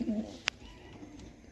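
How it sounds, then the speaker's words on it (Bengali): A single brief, low coo from a breeder Malwai pigeon in a loft at the start, followed by a sharp click and faint background noise. "দেখুন এগুলো সব ব্রিডার পায়রা রয়েছে"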